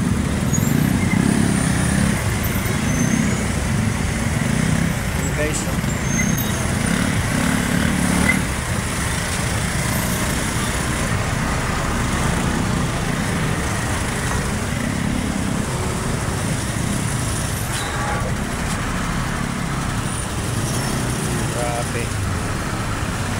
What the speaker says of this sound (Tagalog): Grabe ang mga sasakyan.